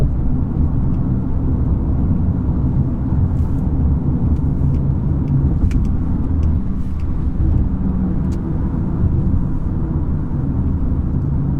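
Car engine and road rumble as a vehicle drives into parking at San Francisco International Airport, a steady loud interior drone throughout with faint clicks and no talking.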